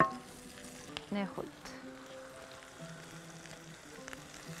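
Garlic going into a hot pan for a seafood paella with shrimp and crab, giving a soft sizzle with a few stirring scrapes, fairly quiet, under a woman's brief speech.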